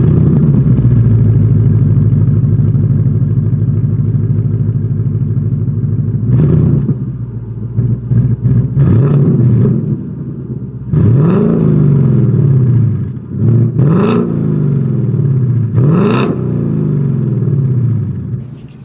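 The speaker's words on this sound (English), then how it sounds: "here is that exhaust clip" A 2021 Ford Mustang GT V8 idles with a deep, lumpy burble through its exhaust, then barks through several sharp revs, each climbing and falling back, loud and close.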